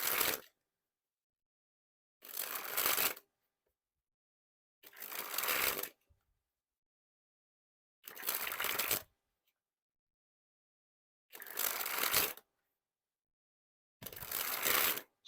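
A deck of Theory11 Voyager playing cards is sprung from hand to hand in six separate bursts. Each is a fast, close flutter of riffling cards lasting about a second, with near silence between bursts.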